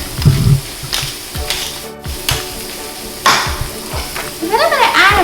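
Onions that have turned clear sizzle and fry in a pan while a spoon stirs and scrapes them in repeated strokes, a steady close hiss beneath sharper clatters.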